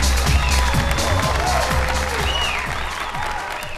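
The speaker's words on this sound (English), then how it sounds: "Thank you for your generous applause." Audience applause and cheering after a magic show, loud crowd clapping with scattered whoops and rising shouts over several seconds.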